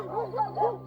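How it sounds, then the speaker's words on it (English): Dogs barking at something in the trees, three harmonic yelping barks in a quick run, close and fairly loud, with no talk over them. "Stop that barking."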